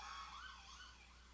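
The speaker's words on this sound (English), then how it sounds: "my apologies for the siren." A police siren passing outside, its wailing tone rising and falling faintly in the distance over a low steady hum.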